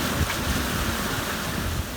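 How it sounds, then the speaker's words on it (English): Large 2 to 3 meter ocean waves surging around a sailboat at sea, a dense continuous wash of water and wind noise buffeting the microphone, loud and close with no voices. "the waves are pretty crazy, eh? 2 to 3 meter waves."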